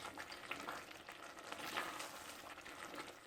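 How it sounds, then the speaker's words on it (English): Ingredients for Portuguese beef stew (carne guisada com batatas), with thickened tomato sauce, sauté in a pot, giving a faint, steady sizzle with soft bubbling and light stirring throughout. "So it's just incorporating all those wonderful ingredients. So while this is sauteing, I'm going to go ahead and add the beef."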